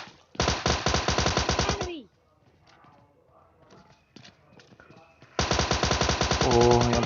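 Rapid automatic gunfire from the PUBG Mobile Lite video game rattles in two long, loud bursts, separated by a quieter gap of scattered in-game shots, footsteps and movement sounds.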